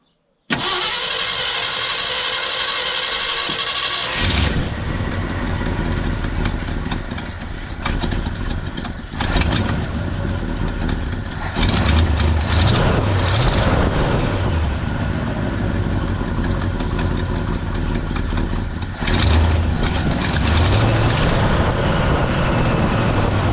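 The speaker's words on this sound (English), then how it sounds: "Fire it up and see if it's leaking." A 1972 Ford pickup engine just fitted with a replacement fuel pump cranks with a whirring starter, catches and settles into a loud, close, rough idle, with the revs swelling and dropping a few times.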